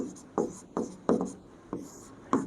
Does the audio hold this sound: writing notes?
yes